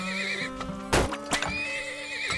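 Horse whinnying in the video game Turmoil, a couple of sharp neighs over clip-clopping hooves and light game tones, with no talk.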